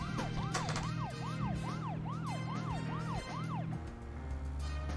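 A wailing emergency siren in the video game Deadly Premonition rises and falls in a steady repeating whoop, loud and continuous over a low engine-like rumble, with no talking.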